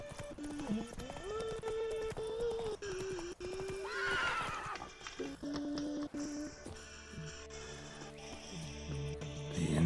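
Roach, the horse in the video game The Witcher 3, whinnies and snorts loudly with quick clip-clop hoofbeats, layered over game music and effects.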